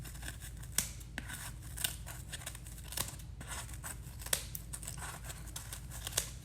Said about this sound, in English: This is when you wish you had bigger scissors.